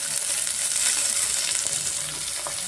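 Sliced onion and mint leaves fry in a pan for soya chunk pulao, giving a continuous bright sizzling hiss with faint stirring scrapes, steady and close, with no talking.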